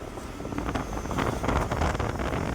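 Gusty wind buffets the microphone in a steady rough rumble, with no talking heard.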